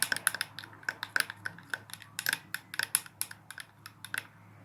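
A spoon stirs honey and sugar into a banana milkshake, striking the glass in a quick, uneven run of sharp clinks and taps that sound close and fairly loud.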